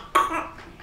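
A single sharp cough from the Sin City 2 trailer, sudden and close, trailing off with a short breathy tail.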